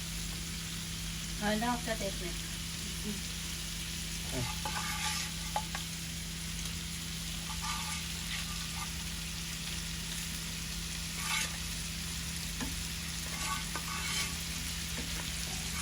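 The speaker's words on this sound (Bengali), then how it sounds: "মাছটা একটু কষাই" Hilsa fish sautéing in a pan for a curry with eggplant, a steady broadband sizzle with occasional stirring scrapes running throughout, a low constant hum underneath and faint voices at moments.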